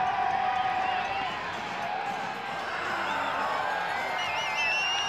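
A crowd at a men's moguls freestyle skiing final cheers steadily from a distance, with rising whoops near the end, under a commentator talking.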